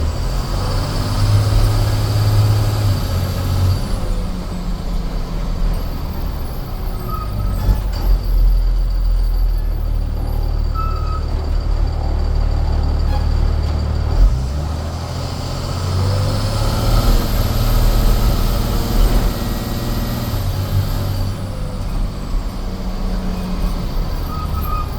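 The exhaust of a 2005 Thomas EF school bus drones loud and steady, heard from the back seat while the bus rides along. Heavy rumble and road noise run throughout, with a high whine rising and fading twice.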